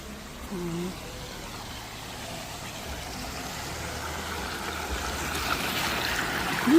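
A continuous rush of flowing stream water, growing slightly brighter over time, with a brief voice early on.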